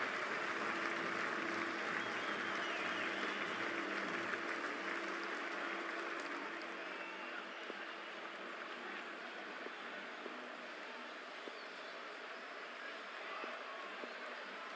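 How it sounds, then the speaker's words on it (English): Steady, distant crowd noise and applause at a packed India vs Netherlands Cricket World Cup match in 2023, a broad continuous wash from the stands that eases slightly in the second half, with no single voice standing out. "It's a fantastic crowd in today"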